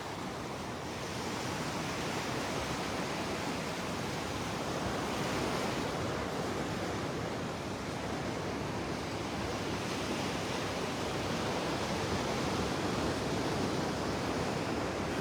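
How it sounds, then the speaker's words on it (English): Ocean waves wash onto the beach at Delnor-Wiggins in North Naples, Florida, a steady broad roar of surf with wind noise throughout, continuous and moderately loud, no voices. "Just another day at the beach in North Naples."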